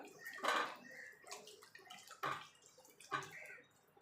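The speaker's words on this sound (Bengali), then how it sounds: "এবার জল দিয়ে দেবো এটা কিন্তু আমার ঠান্ডা জল" Cold water poured over mashed bael fruit pulp in a bowl, giving soft splashing and sloshing bursts in three separate pours, quiet and close.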